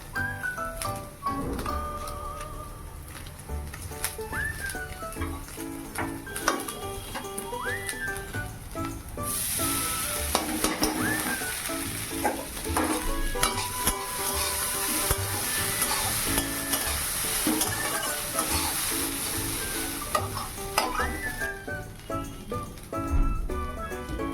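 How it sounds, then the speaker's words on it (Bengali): Grated carrot with flattened rice, salt, turmeric and green chilli sizzling loudly in a pan, stirred with repeated scraping and clanking strokes of a utensil, while thin whistling tones run through the background; no talking. "তো এই যে গাজর দিয়ে দিলাম, লবণ হলুদ দিয়ে ভাজা ভাজা করে নেব।"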